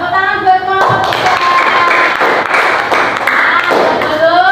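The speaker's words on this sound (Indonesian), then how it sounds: "tepuk tangan buat kelompok 3" Loud classroom applause for a student group rings out for several seconds as steady dense clapping from many hands, with a voice speaking over the start before the clapping takes over.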